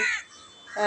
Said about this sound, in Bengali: পাখির ডাক কাক ডাকছে কত কি ডাকছে